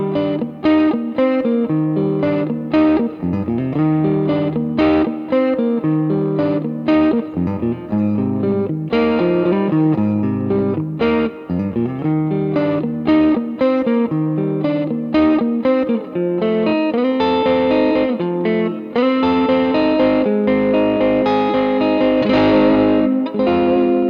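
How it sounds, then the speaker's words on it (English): Electric guitar played through an Orange CR60 amplifier on the hall reverb setting, reverb near noon, rings out in loud, spacey chords and notes with long washing tails and a slightly driven edge. "With the hall setting and the reverb around noon, it can get pretty spacey like this."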